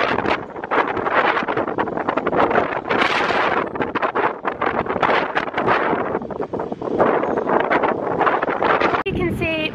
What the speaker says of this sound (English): It's so windy, so I don't even know if you can hear me.